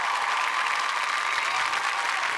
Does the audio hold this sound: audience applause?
yes